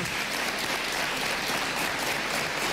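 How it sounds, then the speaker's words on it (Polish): Studio audience applause on a Polish TV quiz show, Awantura o Kasę, a steady dense wash of clapping that stays loud and even for the whole stretch with no voices over it. "Brawa nie tylko za odpowiedź, ale także za świetną licytację"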